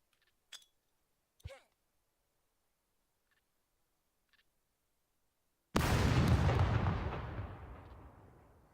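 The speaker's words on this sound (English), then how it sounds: "Grenade." Grenade blast in the survival video game SCUM: faint clicks and a couple of small pops first, then one loud, sudden explosion with a long rumbling decay that fills the last few seconds.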